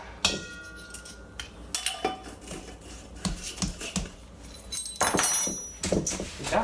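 Spoon stirring a granola bar mixture in a bowl, producing irregular clinks and scrapes at a moderate level with a few louder knocks, with no speech.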